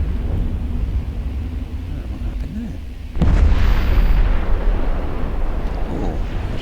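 A ship blows up in the space game EVE Online with a deep, sudden boom that swells into a sustained rumbling roar over a low background drone.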